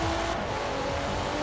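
A Lamborghini Urus engine accelerating hard off the line in Forza Horizon 4, a loud sustained droning roar with a steady pitch across the short burst, heard alone.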